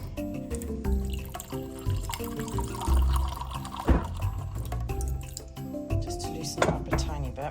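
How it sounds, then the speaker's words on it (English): Water is poured into a sweet homemade mint syrup, a close liquid pouring and splashing heard alongside a person talking. "let's add a wee bit more water."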